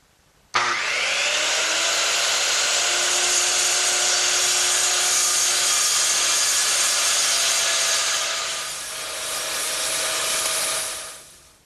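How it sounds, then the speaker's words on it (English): Circular saw cutting through hardboard laid over a 2x4 workbench frame, a loud steady whining roar that starts abruptly, holds for about eight seconds with a brief dip, then winds down, with no talking. "I'm going to use my circular saw to take out that material"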